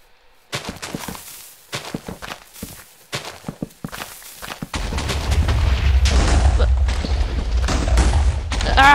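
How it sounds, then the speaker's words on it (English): TNT explosions in a Minecraft PVP mod: clicky placement and step sounds give way to a sustained roar of rapid, overlapping blasts that rumble loudly to the end. "you can place redstone torches and TNT at the same time. And it works really well. The explosions happen really quickly."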